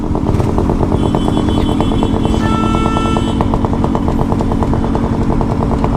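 A KTM Duke 250 motorcycle engine runs steadily and loud up close, a continuous throbbing rumble with a rapid even beat and no pauses, while a brief horn-like tone rises above it.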